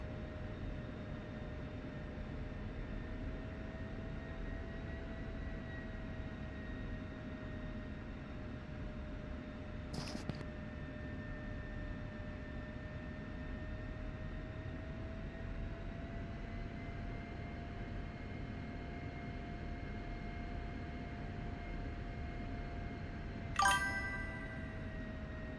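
Steady jet engine drone of an F-16C in the DCS flight simulator, a continuous broadband roar with a sustained whine. Two brief clicks sound over it, and no one speaks.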